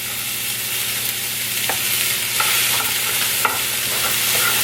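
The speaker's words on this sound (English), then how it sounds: "I wanna saute the onions and green pepper for just a little bit" Chopped onion and green pepper sauté in a hot pan, a continuous close sizzle broken by a few sharp scrapes and taps of a utensil stirring.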